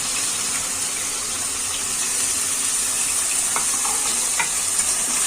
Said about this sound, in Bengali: খুব হালকা ভাজবো পনিরগুলো।